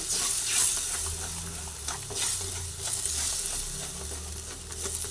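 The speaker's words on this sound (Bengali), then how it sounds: "নাড়াচাড়া করে নিচ্ছি।" A sesame mixture with a little added water is stirred in a pan for a pointed gourd recipe with gondhoraj lime juice, giving steady close scraping and soft sizzling with repeated spoon strokes throughout.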